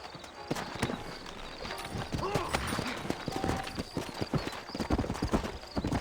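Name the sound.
horses' hooves clip-clopping, from a video game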